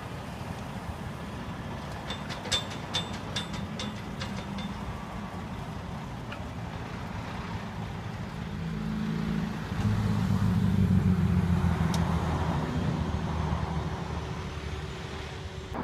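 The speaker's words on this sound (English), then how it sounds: "it appears a truck has pulled up" Heavy truck carrying an oversized load sign, pulling up at the fence gate of an abandoned evangelical complex to haul out logs; a low diesel rumble builds and swells in the second half amid outdoor background noise, with no talking.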